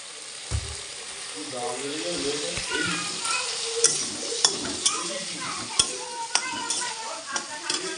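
Potatoes sizzle in a spiced masala that has been cooked down until the oil separates, with a steady frying hiss and sharp spoon-against-pan knocks as they are stirred, close and continuous.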